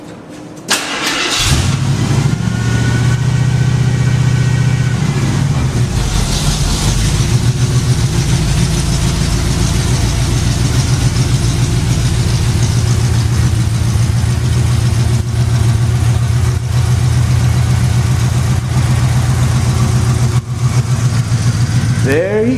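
A Jeep's 360 V8 cranks and fires, then settles into a loud, steady, rumbling idle heard close up, with occasional voices faintly over the engine.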